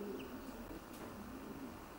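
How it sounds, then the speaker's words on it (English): Racing pigeons coo softly in a loft, a faint low murmur running steadily under quiet room noise with no talking. "This is a nice pigeon, Andrew."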